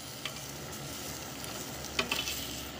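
Pig mask for dinakdakan, seasoned with calamansi, soy sauce, pepper and salt, is stirred by hand in a bowl, giving a faint, continuous wet mixing and scraping with a few small clicks.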